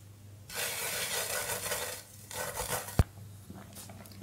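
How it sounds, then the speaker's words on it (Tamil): Semolina halwa being stirred in a pan over low heat, a steady scraping swish in two bursts with a sharp clack of the spoon against the pan near the end, no talk. "நல்லா இந்த மாதிரி கிளறிட்டே இருங்க இல்லனா வந்து கட்டி கட்டியே ஆயிடும்"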